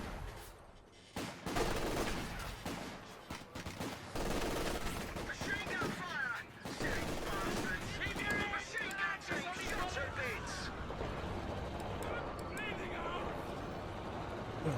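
Machine gun bursts and Cromwell tank fire in the Company of Heroes 2 battle game, dense continuous gunfire and explosions with someone talking over the action throughout.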